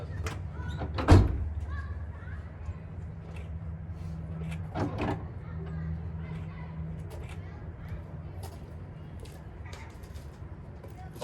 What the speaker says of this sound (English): Shut the door too